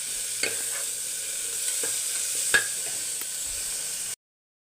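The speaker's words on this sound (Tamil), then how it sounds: "கொஞ்சம் வதங்கட்டும் வெங்காயம் தக்காளி எல்லாம் பாதி வதங்கினா போதும்" Onion and tomato sautéing in a pan, a steady gentle sizzle with a few sharp spoon scrapes and taps, no talk, ending abruptly.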